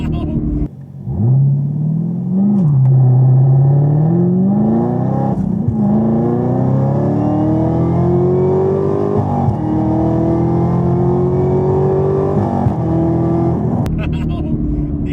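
A Camaro ZL1 accelerates hard, its engine note rising loud and close, then drops abruptly at each flat-foot shift without lifting before it climbs again through the gears.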